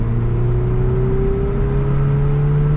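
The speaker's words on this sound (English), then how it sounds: "then make sure to smash the throttle pedal all the way down to the floor" A tuned 9th-gen Honda Civic with a PLM 3-inch downpipe accelerates at full throttle, its loud, steady engine drone climbing slowly in pitch throughout the clip.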